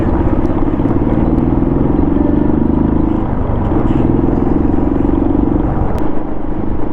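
A motorcycle cruises steadily along a highway near Jaipur, its engine droning loud and continuous with wind rumble, no voices over it.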